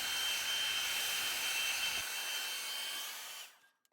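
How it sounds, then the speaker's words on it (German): A hair dryer blows on epoxy resin to make foam for a coffee table of epoxy and wood, a loud, close, steady whooshing roar that holds for a few seconds before winding down and cutting off. "Die leichte Brandung mit dem Schaum am Felsenrand lässt sich mit einem Föhn"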